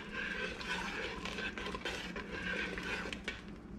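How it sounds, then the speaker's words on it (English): Fish soup being stirred in a cooking pot, with a metal utensil scraping and clinking against the sides in a steady, quiet rhythm, close by and with no talk. "I'm gonna stir it"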